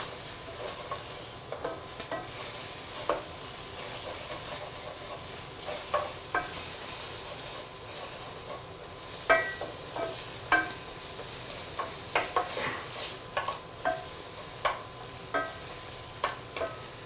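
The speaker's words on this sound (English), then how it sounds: "I'm gonna stir this up." Food sizzles steadily in a kitchen pan while a utensil stirs it, producing a constant hiss with scattered scraping clicks and taps that become busier toward the end, close and clear.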